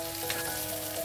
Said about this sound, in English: when you put all the spices together in the pan and fry it with the oil